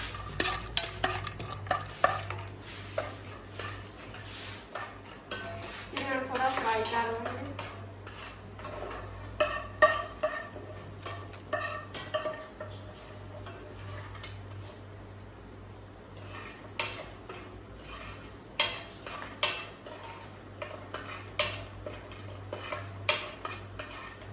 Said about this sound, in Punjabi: ਫਿਰ ਆਪਾਂ ਰਿਫਾਈਨਡ ਕਰਨ ਨੂੰ ਥੋੜਾ ਜਿਹਾ ਚਿਰਨਾ ਪਾਵਾਂਗੇ ਇਹਨਾਂ ਗਣ ਥੋੜੇ ਚੰਗੀ ਤਰ੍ਹਾਂ ਭੁੰਨਾਂਗੇ